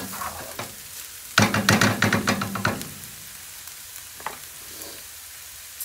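Stuffed mushrooms sizzle and crackle in a pan. After a quiet start the frying bursts out loud for over a second of busy spattering, then settles back to a low hiss with an occasional pop.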